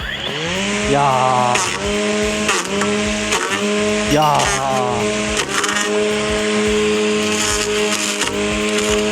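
A Greenworks 60V cordless front-head string trimmer whines loudly and steadily while cutting through a thick branch. The motor pitch dips and recovers several times under load, and a man briefly exclaims over it.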